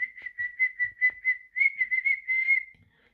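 A person whistles in imitation of a bird's danger warning call, a run of short, sharp, high chirps followed by a longer warbling trill, close and clear against silence.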